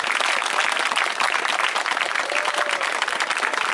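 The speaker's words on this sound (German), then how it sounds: "Applaus nochmal." Lively audience applause at a Tesla light show contest event in Hilden, a thick, close roar of many hands clapping fast that continues unbroken for several seconds.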